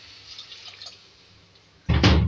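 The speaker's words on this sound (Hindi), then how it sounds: "2 गिलास पानी डालूंगी और इसको हम गलाने के लिए रखेंगे।" Water poured into a pot of beef cooking with cloves and black pepper: after near silence, a sudden loud splashing pour begins close by and continues to the end, with no talking.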